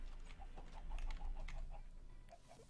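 A big hen in the Find the Egg video game clucks in a string of short, soft calls over a low, busy game background, fairly quiet throughout.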